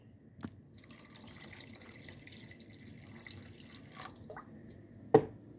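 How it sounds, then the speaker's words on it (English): Water added to a cooking pot, heard as faint drips and small splashes, a few scattered plops with one sharper splash near the end over a quiet background. "I'm gonna add a little bit more water though."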